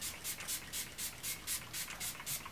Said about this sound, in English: Spraying my face with the Hangover RX spray